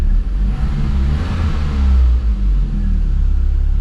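Engine of a Volvo 480 Turbo with a missing screw, revved up to about 2000 rpm and then released, rising in a rumbling growl before settling back to a steady, loud idle.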